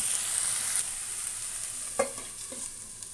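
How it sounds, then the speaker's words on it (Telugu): Potato pieces for aloo fry sizzle gently in a covered pan over a low flame, a soft steady frying hiss with a couple of brief stirring clicks, no talking. "ఇప్పుడు సిమ్లో పెట్టుకొని వేయించుకుందాం."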